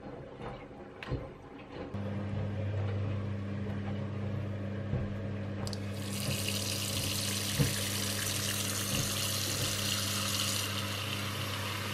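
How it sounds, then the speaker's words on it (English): Water fills a box holding an iPhone 8, pouring steadily from a tap with a constant low hum running beneath it for several seconds, close and moderately loud. "And then we can fill the water in this box too."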